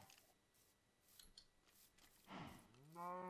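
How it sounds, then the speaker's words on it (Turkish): Cattle mooing in a video game, a low drawn-out moo rising near the end after some scattered clicks and rustles, with no talk over it. "Birisi ineklere işkence ediyor."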